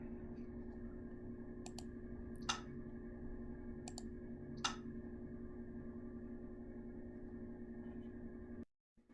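A computer mouse clicks a few times while a game is played from an Android phone set up as a console, with two sharp isolated clicks standing out over a steady hum before a sudden cut to silence.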